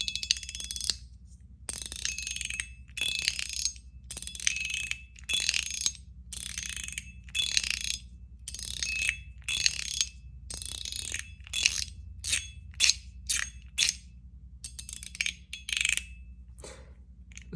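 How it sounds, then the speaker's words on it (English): A titanium mini burger fidget toy from O1EDC being fidgeted, giving repeated sharp metallic clicks and ratcheting snaps in irregular bursts over a low steady hum, close and fairly quiet. "this is the mini burger from O1EDC. It gets plenty of use"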